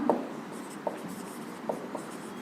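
Marker or chalk writing on a classroom board, a few quick scratchy strokes in short bursts with pauses between, close and fairly quiet.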